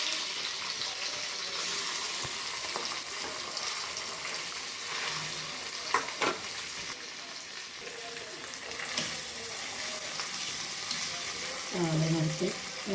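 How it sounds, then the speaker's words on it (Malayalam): Masala-coated sardines fry in a pan, giving a continuous crackling sizzle close to the microphone, with occasional clinks and scrapes of utensils and faint water sounds in the background. "ചാള ഞാൻ വൃത്തിയാക്കി മസാലയൊക്കെ പുരട്ടി വെച്ചിട്ടുണ്ടായിരുന്നു. അപ്പോൾ അത് വറക്കണം."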